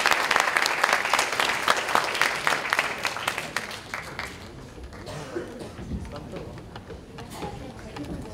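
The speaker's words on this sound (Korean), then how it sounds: "큰 박수로 환영해 주시기 바랍니다" A school alumni talk-concert audience in an auditorium breaks into loud, dense applause welcoming a speaker, clapping strongly at first then thinning out into scattered claps and room murmur.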